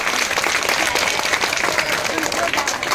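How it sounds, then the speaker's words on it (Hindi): Loud, sustained applause from a large crowd greeting a guest of honour at a Hindu religious ceremony, a Hanuman mahayagya in Azamgarh, with dense steady clapping throughout and voices mixed in. "जोरदार तालियों से स्वागत।"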